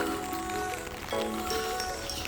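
Steady rain pattering on a surface, a dense wash of drops with some faint tonal background sounds mixed in.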